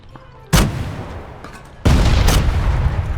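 Two loud, close rocket blasts in PUBG fired at a vehicle, the first a sharp boom with a short decay, the second a heavier explosion followed by lingering rumble.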